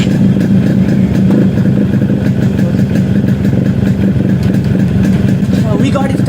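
A Yamaha RX 100 two-stroke motorcycle engine runs with a steady, close buzzing idle that carries on throughout.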